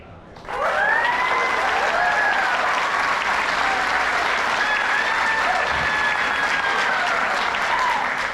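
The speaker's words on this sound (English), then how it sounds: "that's the biggest applause I've ever heard in my life in one of these events" A theatre grand-opening audience breaks into loud, sustained applause with cheering and whistles, rising sharply and holding steady to the end.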